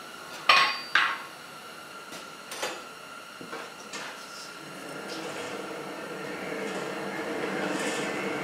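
A hammer strikes hot steel on an anvil while a basic leaf is forged, with a few sharp ringing blows at the start followed by a softer clink, then a steady low hum of the forge.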